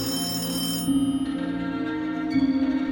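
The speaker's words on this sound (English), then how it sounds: "the ringing of the phone at the front desk shattered the silence" A telephone rings at a motel front desk in repeated tonal bursts over a sustained musical drone, fairly loud with no speech.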